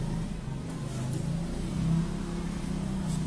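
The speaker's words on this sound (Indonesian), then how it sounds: "maaf ya kalau reviewnya agak berisik, motor lewat" A motorcycle passes nearby outdoors, its engine a continuous droning rumble that swells slightly as it goes by, with no talk over it.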